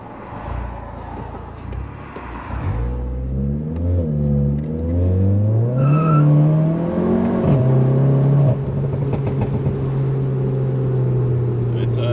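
A loud, rumbling modified VW MK7 GTI engine pulls away from a stop, its pitch climbing through several gear changes before settling into a steady drone, with a voice briefly audible.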